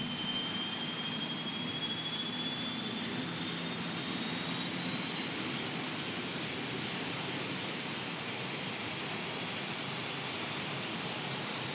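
A helicopter lifts off from a sports ground into the evening sky over Regensburg during the 2006 papal visit. It makes a continuous, loud, broadband engine roar with a whistling turbine whine, steady throughout and with no talking.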